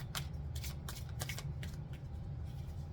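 Quick riffling bursts of cards being shuffled, several short flicks close by over a soft low hum.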